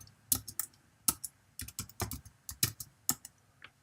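Close, quiet typing on a computer keyboard, a dozen or so crisp key clicks in an uneven rhythm with a couple of slightly heavier strokes, no voices.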